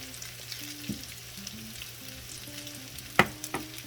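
Soft, steady sizzling of a veggie pancake frying in a pan on medium heat, with a few faint scrapes and taps from a utensil pressing it down.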